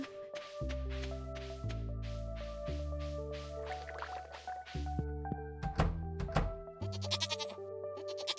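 Goats in Stardew Valley bleat in a rhythmic series of loud, steady cartoonish calls, with a few thunks and drips in the game mixed between them.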